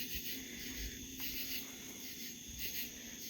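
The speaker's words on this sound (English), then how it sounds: "I like to just sit and listen to the tree frogs." Tree frogs call in the evening outside a home, a faint, steady high-pitched trilling chorus that continues unbroken in the distance, with no one speaking.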